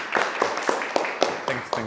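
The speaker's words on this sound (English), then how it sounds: "Thanks for the applause." An audience at a tech conference talk claps in a steady, even rhythm, the sharp claps repeating about every quarter second at a close, fairly loud level.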